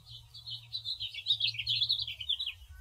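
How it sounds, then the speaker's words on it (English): Birds chirping outdoors: a continuous run of high, quick twittering calls, moderately faint, over a low steady rumble and no talking. "Birds."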